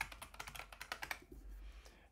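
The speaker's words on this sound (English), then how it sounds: "I go and I put in my email address and password" Rapid keystrokes on a computer keyboard while an email address and password are entered at a login screen, a quick uneven run of close, crisp clicks that stops abruptly partway through.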